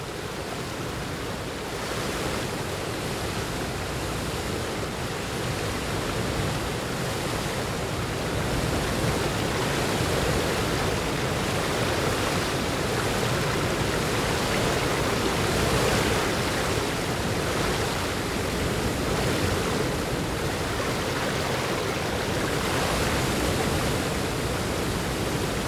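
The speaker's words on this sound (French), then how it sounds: "elles ont transformé le Nil d'ordinaire si calme à cet endroit en un torrent furieux" The Nile above Murchison Falls runs as a raging flood torrent, a dense, steady roar of rushing water that is loud and continuous throughout with no voices.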